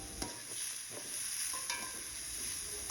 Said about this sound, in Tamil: ஆயில் ஹீட் ஆகின பிறகு இது கூட 2 வெங்காயத்தை நல்லா தின்னாக ஸ்லைஸ் பண்ணி சேர்த்துக்கோங்க